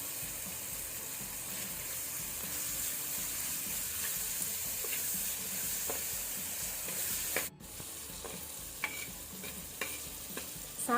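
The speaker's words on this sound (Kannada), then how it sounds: "ನೆಕ್ಸ್ಟ್ 1 ಸಣ್ಣ ಸೈಜ್ನದ್ದು ಟೊಮ್ಯಾಟೊ, ಇದು ಸಹ ಎಣ್ಣೆಯಲ್ಲಿ ಸ್ವಲ್ಪ ಫ್ರೈ ಆಗಲಿ" Small tomato frying in oil for a Mangalorean salted mackerel masala, a steady moderate sizzle with scattered stirring scrapes and taps, a brief dip midway, no voices.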